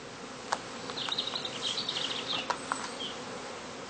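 A cast swarm of bees buzzes steadily around heather skeps, a dense insect hum with individual bees zipping close past at intervals. The sound is fairly faint and outdoors, with no voices.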